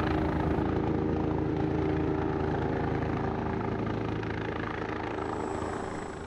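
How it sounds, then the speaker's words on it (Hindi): A helicopter roars loud and close with a dense, throbbing rotor and engine drone that holds steady, then eases off slightly toward the end, with no voices. "हेलीकॉप्टर बहुत शोर करता है"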